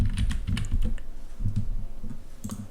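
Fingers type on a computer keyboard in quick bursts of clicky keystrokes with short pauses between groups, close and clear.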